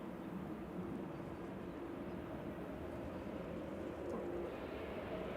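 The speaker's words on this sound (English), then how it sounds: "It's an EasyJet coming in." Distant low roar of an EasyJet airliner on approach to land at Manchester Airport, a steady broadband rumble that stays faint and continuous throughout, with no speech.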